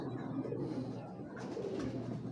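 White racer pigeons cooing softly at close range, low throaty coos rolling over a quiet background with no talk.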